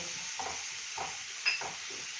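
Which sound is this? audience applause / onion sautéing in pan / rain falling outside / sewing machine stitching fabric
onion sautéing in pan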